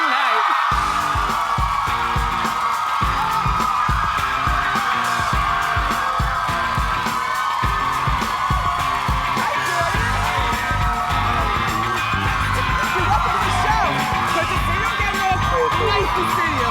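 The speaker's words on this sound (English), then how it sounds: "Please clap it up for Nick Carter and Jordan Knight." A studio talk-show audience cheers, whoops and applauds loudly and continuously as two pop singers are welcomed on stage, with shouts and yells rising out of the dense crowd noise throughout.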